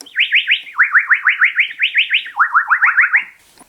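A Yamaha PSR-7 FM keyboard plays its Birds sound effect: a rapid series of bright, synthetic chirps sweeping upward in quick repeated bursts, stepping down in pitch partway through, loud and alone before fading out.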